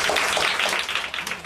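A stage audience breaks into clapping, a brief dense burst of many hands at moderate loudness with no talking over it.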